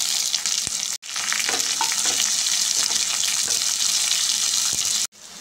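Fenugreek leaves fry in a pan with a loud, steady sizzle and some light stirring, close up, with two brief breaks and no speech.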